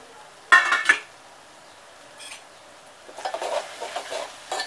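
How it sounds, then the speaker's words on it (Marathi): A metal lid clanks onto a cooking pot of onions in a home kitchen, two sharp clinks close together, followed by softer scraping and rattling handling sounds. "आता मी ह्याच्यावरती झाकण ठेवते."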